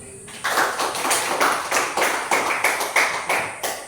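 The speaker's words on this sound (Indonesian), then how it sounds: "Tepuk tangan." Mathematics class of students clapping together in a classroom, a rhythmic patterned clap with evenly spaced accented beats, fairly loud and close, nearly alone without talk.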